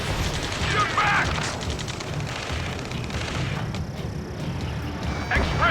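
Rapid automatic gunfire in the combat flight game Ace Combat 7, a dense continuous rattle of shots layered with explosions and shouted voices, loud and close throughout.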